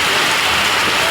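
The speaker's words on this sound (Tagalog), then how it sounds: "grabe ulan ang lakas" Heavy typhoon rain pours down in a dense, loud, unbroken hiss, close and constant.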